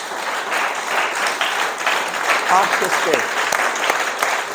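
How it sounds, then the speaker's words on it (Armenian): Loud, steady applause from a crowd fills the whole stretch, with a voice briefly audible through the clapping. "Եկեք ծափարենք Տիրոջը"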